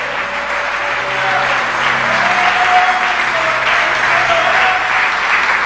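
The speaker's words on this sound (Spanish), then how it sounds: "Dale fuerte ese aplauso a Jesús" Church congregation applauds for Jesus during a sermon on the Lord's Supper, a steady wash of clapping carried over soft sustained instrumental tones.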